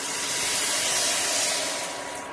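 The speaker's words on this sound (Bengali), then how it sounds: "এবার পরিমাণ মতো জল দেব।" Water pours into a pan of pasta, a steady broad hissing splash that swells and then eases off near the end, close and alone.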